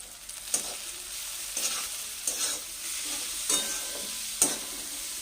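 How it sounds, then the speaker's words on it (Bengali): A spatula mashes tomatoes with salt and a little chilli powder in a frying pan, giving soft scraping strokes about once a second over a steady sizzle, close and without talk. "টমেটোটাকে এরকম করে ছেচকি দিয়ে দিয়ে একটু গলিয়ে নেবে"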